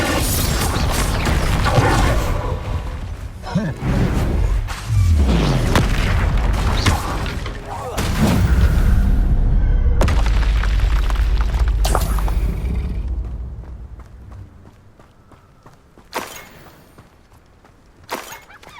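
Spell blasts and explosive combat from the wizarding game Hogwarts Legacy: heavy booms, crashes and shattering bursts in dense succession for most of the stretch, easing into sparser impacts and quieter moments near the end.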